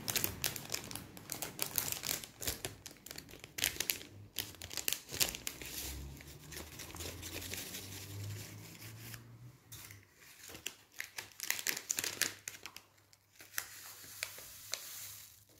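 Plastic wrappers of sticker packets crinkle and tear as they are opened one after another, a close, busy run of rustling and crackling with short pauses between bursts.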